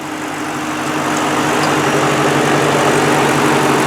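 A 2007 Ford Mustang GT's 4.6-liter V8 idles steadily and smoothly, close by, with a low rumble and constant drone that holds even throughout, no voices.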